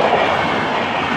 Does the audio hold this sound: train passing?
yes